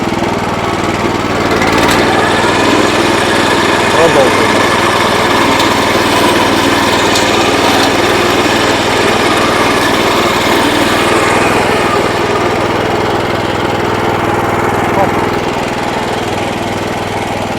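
A rotary mower powered by a Motor Sich engine runs loud and close in a continuous, buzzy drone that holds a steady level with no pauses throughout.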